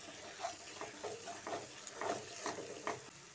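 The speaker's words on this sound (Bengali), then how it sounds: "তারপর মশলার সঙ্গে আরও একবার ভালো করে মিশিয়ে দিচ্ছি" Spice mixture with tomato and sugar stirred in a pan for a vegetarian paneer curry, giving soft rhythmic scrapes about every half second over a low sizzle, close and fairly quiet with no talk.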